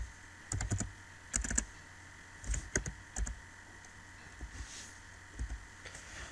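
Keystrokes on a computer keyboard, tapped in short irregular bursts of clicks with pauses between, close and fairly quiet, entering text into an online embassy appointment form, no voices.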